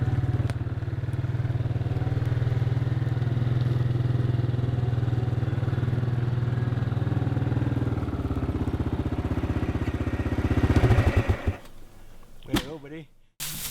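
A farmer's motorbike arriving for a bear hunt, its engine a steady loud mid-pitched drone that gets louder and rougher near the end, then cuts off with some clatter.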